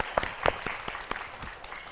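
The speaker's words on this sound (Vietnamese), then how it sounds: "Bây giờ cho một tràng pháo tay đi cho nó sôi nổi này." A small group in a casual gathering gives faint, scattered applause, a handful of separate hand claps heard fairly distant and sparse rather than a full round.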